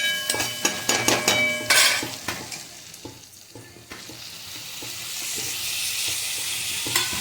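Tomato and onion frying in a pan for tuvar dal, opening with a run of sharp spoon clanks against the pan, then a rising loud sizzle that hisses steadily to the end.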